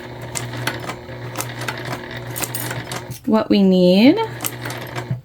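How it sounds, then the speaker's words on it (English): Sewing machine stitching a vinyl Kindle sleeve with a quarter-inch seam allowance: a steady, close mechanical whir runs throughout, and a voice briefly speaks over it near the end. "And I'm stitching with a 1/4 inch seam allowance."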